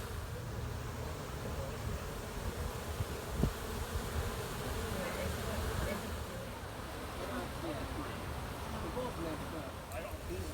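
A constant low drone of many honey bees fanning at a hive entrance close by, steady and even throughout, with a faint voice murmuring in the background.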